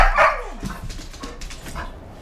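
Pet dogs, one named Faith, give a close, loud bark followed by a string of whimpers and yips.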